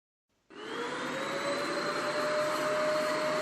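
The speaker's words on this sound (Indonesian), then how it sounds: "Ketika teman-teman memulai menggunakan vacuum cleanernya, selagi menggunakan, perhatikan juga panas dari bodi vacuum cleanernya." A vacuum cleaner switches on abruptly and keeps running, a loud steady whine with a sustained high-pitched tone over a broad airy roar, close by and alone.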